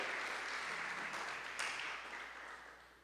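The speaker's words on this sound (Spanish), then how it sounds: "Dale un fuerte aplauso a Dios." Church congregation applause during a sermon, a broad burst of many hands clapping in a reverberant room, swelling briefly and then fading over three seconds.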